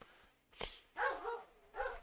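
A dog gives three sharp, close barks spaced about half a second apart, each a short, bright burst against a quiet indoor background.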